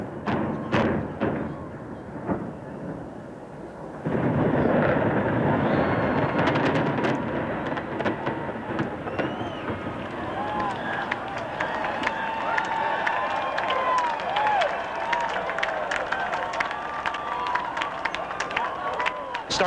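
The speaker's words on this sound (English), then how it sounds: "Joan London's finger triggered a series of explosions" A series of demolition explosions brings down the Aladdin resort building in Las Vegas, heard from across the street as a run of distant thuds followed by a long rumbling roar, with crowd noise and cheering in the background.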